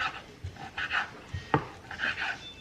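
Pet dogs panting close by in a home kitchen, quick breathy puffs in an irregular rhythm, mixed with a sharp knock of wood or dishes.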